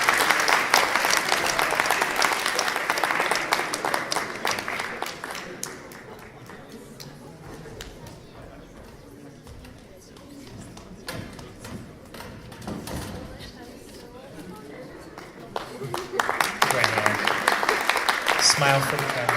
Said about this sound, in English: let's give another warm round of applause for our second eliminated finalist